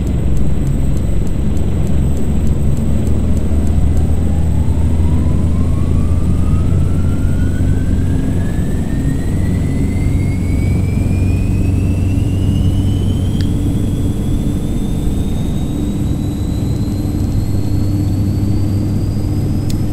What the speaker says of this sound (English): Let's start up the other engine.